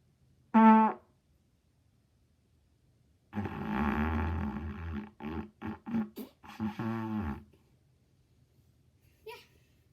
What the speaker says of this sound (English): So first we have farting.